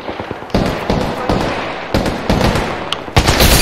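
Rapid Apex Legends gunfire rattles loudly in repeated bursts of close shots throughout, with no pauses long enough to leave silence.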